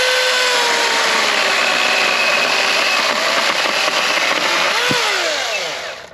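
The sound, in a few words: RIDGID electric chainsaw cutting deadfall wood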